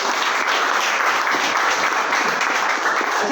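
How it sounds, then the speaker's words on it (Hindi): Sustained applause from an audience at a business plan presentation, dense steady clapping filling the room for the whole span without a break. "तालियां"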